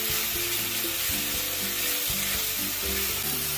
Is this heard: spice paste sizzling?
yes